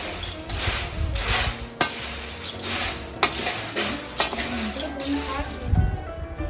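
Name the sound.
stirring chilli powder and salt into chivda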